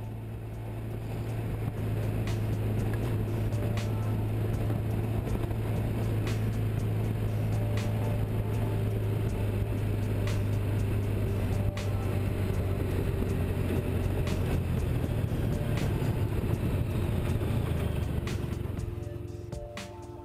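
A V4 motorcycle engine drones steadily while climbing hills on forestry roads, a sustained low hum with wind rush, moderately loud and unbroken for the whole stretch.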